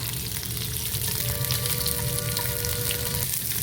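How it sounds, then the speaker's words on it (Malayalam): Small square-cut onion pieces sautéing in a pan for kadai chicken, a constant close sizzle with a brief thin tonal ringing in the middle. "ഒരു ചെറിയ അനിയൻ ഇങ്ങനെ സ്ക്വയർ പീസസ് പോലെ കട്ട് ചെയ്ത് ഇത് രണ്ടും കൂടെ ഒരു 2 മിനിറ്റ്സ് ഒന്ന് വഴറ്റിയെടുക്കുക"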